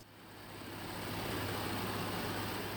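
A Super Puma twin-engine heavy-lift helicopter runs at a gondola lift installation site, giving a steady, loud, close mechanical drone with a low hum that swells slightly and holds.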